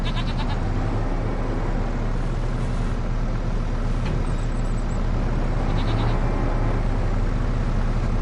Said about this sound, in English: Now that we've chased the goats around.